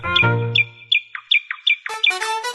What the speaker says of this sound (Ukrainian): Сонечко сяяло, пташки щебетали